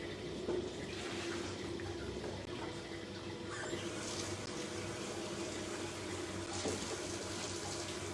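Hot water runs steadily from a tap into a bucket, a continuous close gushing rush that holds for about eight seconds with no talking.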